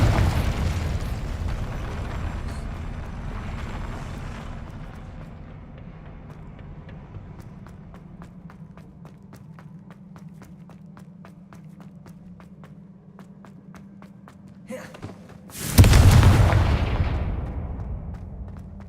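Fiery spell blasts in the game Hogwarts Legacy end with one loud, booming explosion near the close, after a long low rumble with faint footsteps and scattered clicks.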